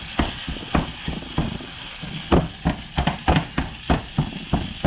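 Ground meat being chopped with a chopper tool in a sizzling pan for taco stuffed peppers, rhythmic scraping chops repeating about twice a second over a constant frying hiss, close up.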